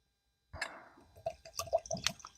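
Old Fitzgerald 7-year bourbon whiskey poured from a small sample bottle, a close, brief gurgle of liquid followed by a few wet glugs and drips.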